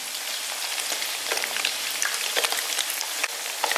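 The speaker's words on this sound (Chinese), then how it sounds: "再加点那个黄豆酱，炸2勺" Yellow soybean paste and sweet bean sauce fry in a wok with a dense, steady sizzle and bubbling crackle, close and continuous with scattered sharper pops.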